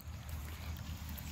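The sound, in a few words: water flowing from a spring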